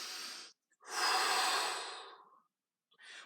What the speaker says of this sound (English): Have a few deep breaths here.